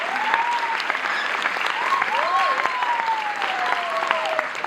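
Audience clapping at a role-model conversation event, steady applause that runs throughout, with a whistle-like tone sliding over it.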